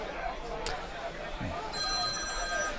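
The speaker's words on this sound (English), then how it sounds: "Whose phone's that? That's pretty loud." A mobile phone ringing at a National Premier League soccer match between Campbelltown City and Adelaide Blue Eagles, a thin electronic ringtone rising over background crowd chatter and ambient noise at the ground.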